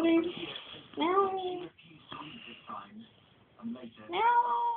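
A woman imitates a cat's meow with her voice, giving several drawn-out, rising and falling meows close to the microphone with short pauses between them.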